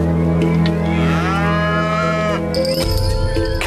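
Maasai cattle lowing on the open savanna of Kenya and northern Tanzania, a loud, close, drawn-out moo with wavering pitch, followed by a second shorter call, with no talk.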